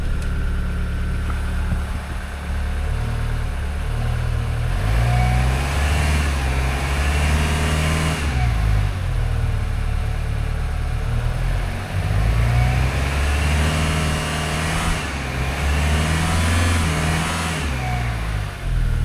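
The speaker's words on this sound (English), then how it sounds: "I know it's a diesel, so it's hard to hear motor noise" A diesel truck engine runs nearby in the cold, holding a loud, steady rumble with repeated rising revs and falls in pitch, several throttle swells over the stretch.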